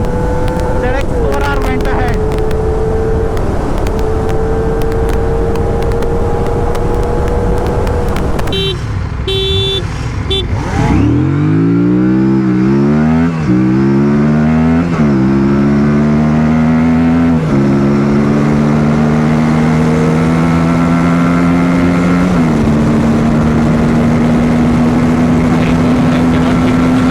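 RS 457 and Ninja ZX-4R motorcycles in a drag race, loud engines revving and rising through gears with strong wind buffeting on the microphone, one bike pulling ahead.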